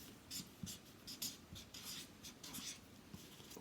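A marker scratches and squeaks across a writing surface in short, quiet strokes with brief pauses, close and alone.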